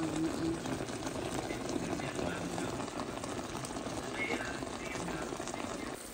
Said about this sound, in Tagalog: napakulaan ko na siya ng 25 minutes